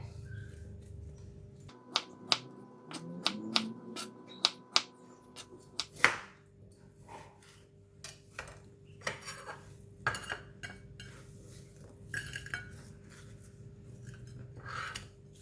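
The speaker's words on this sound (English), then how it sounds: "This is still ice, so I'm going to cut it into 3 pieces like that." A knife cuts through a block of frozen crab balls on a kitchen board, giving sharp, separate clicks and knocks that are spaced irregularly over a quiet background.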